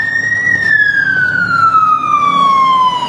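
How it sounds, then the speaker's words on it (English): A fire engine siren wails loudly as the truck passes close by, its pitch sliding steadily downward as it moves away over road traffic noise. "That's it. Fire engine."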